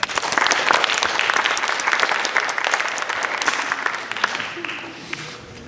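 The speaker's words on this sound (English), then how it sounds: "Please give them a round of applause." An audience at a high school entrepreneurship forum applauds, steady dense clapping from many hands that holds for several seconds and then thins and fades toward the end.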